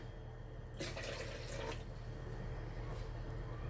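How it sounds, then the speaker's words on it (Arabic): A cup of milk is poured into a blender jug for a coffee and banana smoothie, giving a short, soft splashing and trickling of liquid for about a second against a faint low hum. "رح اخد وعاء الخلاط ورح احط فيه كوب من الحليب"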